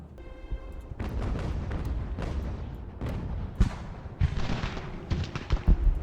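Musket volley fire and booming gunfire on a game battlefield in Ultimate General: Revolution, with a dense, continuous roar of shots and several sharper loud cracks toward the end.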